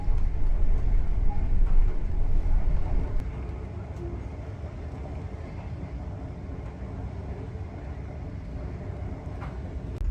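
The Great Southern passenger train rolls along the tracks near Wagga Wagga, heard from inside as a steady low rumble and hum, louder at first and then settling into a smoother, quieter drone.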